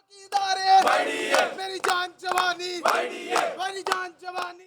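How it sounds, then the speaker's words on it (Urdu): A crowd of young doctors protesting against the health department in Lahore shouts slogans in rhythmic unison, bursts of chanting repeating in regular phrases, loud and close. "ینگ ڈاکٹرز کی محکمہ صحت کے خلاف نعرے بازی"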